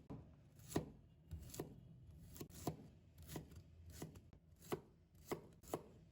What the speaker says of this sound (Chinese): 把红葱头切成粒。